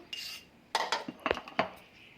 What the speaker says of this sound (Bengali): তো ডিম আর কুসুমটা একসঙ্গে মিশিয়ে নেব।